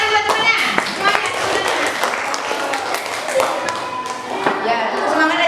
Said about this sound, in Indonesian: Ayo tepuk tangan buat temannya